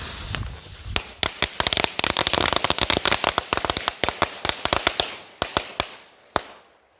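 Polish firecrackers, including a 3-gram banger set under a pot, go off as a rapid string of sharp, loud cracks and pops, densely packed at first and then spacing out into a few final bangs.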